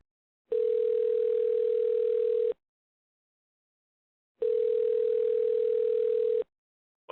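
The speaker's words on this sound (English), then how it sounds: "We need to try calling Kyle again." Telephone ringback tone during a phone call: two long steady beeps of about two seconds each, separated by silence, clean and alone, with a third just starting at the end.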